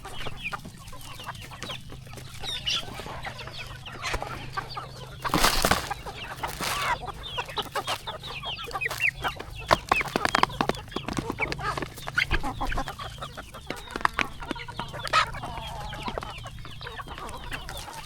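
Free-range native country chickens cluck steadily around a farm feeding spot at close range, with scattered sharper calls and a brief louder flurry midway, over a low continuous background hum.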